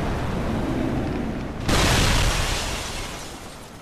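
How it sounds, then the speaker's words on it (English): A sudden burst of ice bursting apart in a fantasy tale erupts halfway through, a broad loud whoosh-boom cutting in over an already noisy rumbling background and slowly fading away. "it explodes in an explosion of ice"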